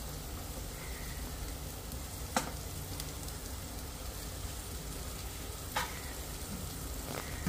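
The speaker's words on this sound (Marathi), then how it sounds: "आता हे तुरीचे दाणे आपण त्यात ऍड करणार आहोत." Pigeon peas for a spicy brinjal curry fry in a hot pan, giving a dense, continuous close sizzle with a couple of sharp knocks of a stirring utensil against the pan.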